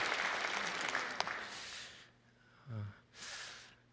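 A church congregation applauds to welcome elderly members: soft, fairly distant clapping fills the first two seconds and fades, leaving near silence broken by a couple of breaths.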